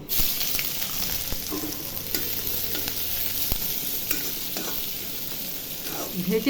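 Chopped onion and garlic fry in a pan with a steady close sizzle, punctuated by several sharp stirring clicks and scrapes; nobody speaks.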